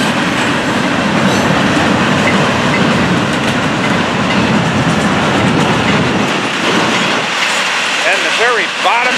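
A freight train with auto rack cars rolls steadily past close by, a continuous loud rumble with clickety-clack of wheels and faint squeal, while a voice speaks briefly near the end.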